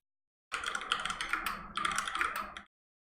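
Rapid keystrokes clatter on a PlayStation keyboard during a Street Fighter V online tournament, a dense two-second burst of close clicks with a brief pause midway.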